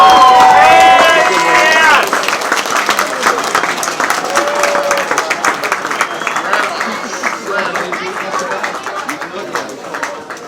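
Audience at the PacWest 2024 guest speaker event breaks into a loud burst of applause and cheering that stays dense and sustained, easing slightly toward the end, with voices talking over the crowd.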